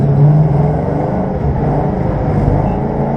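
A Ford Mustang's engine roars steadily under throttle during drift practice at Ferté-Gaucher, a loud, close, continuous low rumble with no pauses.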